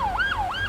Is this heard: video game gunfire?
no